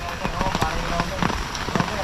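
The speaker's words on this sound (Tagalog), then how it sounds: "banayad na ulan. Patak-patak no." Light rain pattering with scattered soft drops and crackly taps, steady and close, with people talking over it.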